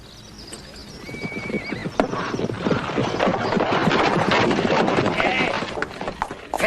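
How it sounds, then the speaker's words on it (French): A horse neighs loudly and whinnies near the listener while its hooves clatter and stamp, the restless whinnying and clip-clop building and continuing for several seconds over background ambience. "attention avec ton maudit cheval"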